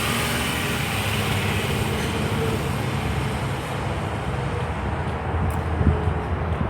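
A truck goes by on a road during a walk to school, heard within a steady broadband traffic rumble that holds fairly level with no sharp peak.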